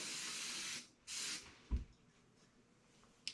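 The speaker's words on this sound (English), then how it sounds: "Then I just give it a light spray." Two quick bursts from a hair spray bottle misting product onto curly hair, close and soft, followed by a faint low thump and quiet.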